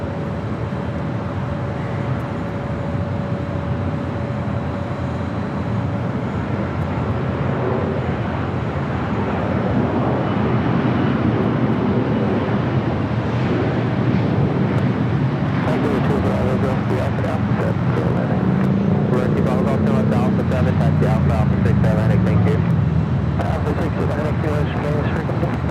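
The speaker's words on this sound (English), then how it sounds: "Followed by Southwest Airlines Flight 1235, coming from SFO into 737 MAX 8." A Southwest Airlines Boeing 737 MAX 8 arriving from San Francisco at Los Angeles International Airport, heard as a continuous broadband jet rumble with a low tonal whine that rises and fades as it passes, amid steady airport background noise.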